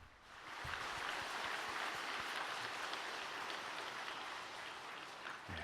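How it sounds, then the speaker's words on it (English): Audience applause welcoming a speaker at a welcome address, a steady, dense wash of clapping from a large crowd that holds evenly for several seconds, heard at a moderate distance. "Let's welcome her up with a warm round of applause."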